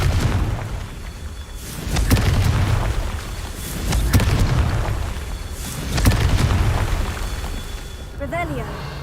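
Confringo blasting spell explosions in Hogwarts Legacy, several deep booming blasts recurring roughly every two seconds over dense game noise and a steady rumble, with voices talking throughout.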